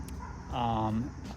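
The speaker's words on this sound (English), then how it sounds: "my dog's barking" A dog barks once in a short, close burst of several harmonic yelps lasting under a second, set against steady background noise in a Lexus SC300 setting.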